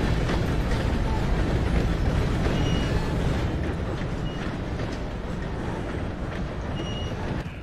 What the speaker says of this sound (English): Gotta beat that train, Morgan!